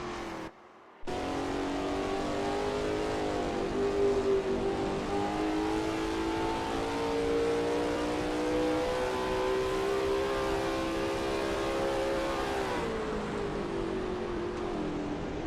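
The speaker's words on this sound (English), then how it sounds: "There's not much better than sitting near here and watching the cars speed by." A Lola T70 MkII Spyder race car and others speed past at Österreichring in a racing game, a loud sustained engine roar with rising and falling revs, close by and steady throughout, no voices.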